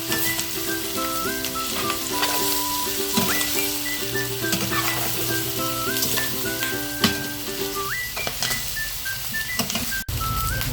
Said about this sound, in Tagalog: Tapos, lagyan natin yung ating tukwat. Para kasama sa gisa.